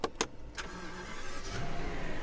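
A Rolls-Royce being started with its start-stop button: a couple of short clicks, then a low engine rumble that builds and settles into a steady idle close by, with no talking.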